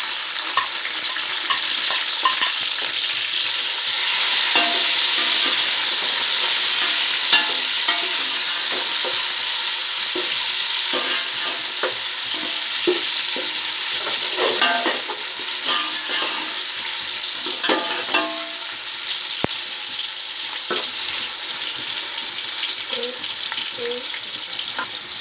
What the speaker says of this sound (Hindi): अब इसमें हम टमाटर शामिल कर देंगे।